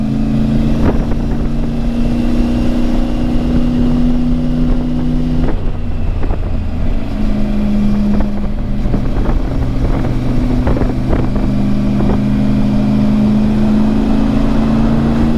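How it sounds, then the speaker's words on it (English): A Triumph Tiger motorcycle engine drones steadily on a steep Swiss mountain pass, its pitch rising and falling as it revs, with wind buffeting the microphone throughout. "Try revving the bike."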